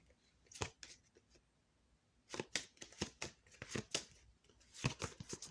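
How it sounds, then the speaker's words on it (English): Tarot cards are shuffled off camera in quick, crisp riffling bursts: a few isolated snaps early, then dense clusters of sharp flicks, quiet and close with no talking. "I will be shuffling off camera a little bit"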